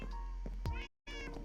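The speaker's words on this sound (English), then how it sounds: "I'm sorry if you hear like background noises. The cats, my actual cats," Pet cats meow in the background of a home where someone is playing Minecraft, with several overlapping drawn-out cries, a brief dropout partway through, then more meowing.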